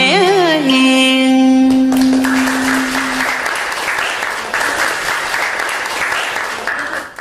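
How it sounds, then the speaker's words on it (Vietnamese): A long round of applause from the audience at a Vu Lan filial-piety ceremony, beginning as a sung melody fades out and then continuing as steady, full clapping from many people to the end. "cho một tràng pháo tay dài nữa quý vị ha"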